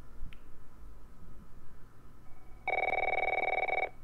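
A home landline phone in a bedroom in The Last of Us prologue rings in one sustained electronic burst late on, clear over a quiet background hum with no talk.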